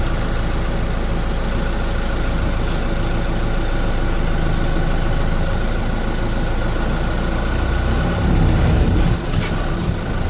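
A 4BT Cummins diesel engine rumbles steadily and loudly close by as the vehicle eases over a wet curb, with a slight surge and rattle near the end.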